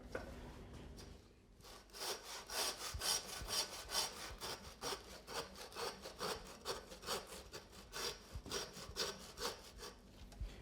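A hand saw cutting through the bones of an aged rib of beef while butchering côte de boeuf, steady rhythmic back-and-forth rasping strokes, close and clear with no talk.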